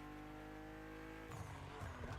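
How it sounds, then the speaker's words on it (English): A car drifting in a racing video game, BMW, holding a steady engine drone that gives way to louder, rougher tire-squeal bursts in the second half. "I can actually get to drift fairly easily too"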